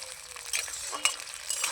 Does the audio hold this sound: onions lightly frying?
yes